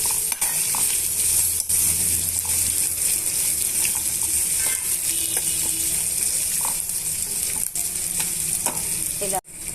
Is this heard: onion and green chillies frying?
yes